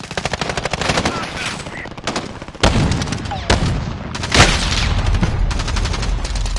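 Rapid automatic gunfire crackles in the Warzone video game, dense bursts with several heavier booming shots landing close and loud, continuous across the clip.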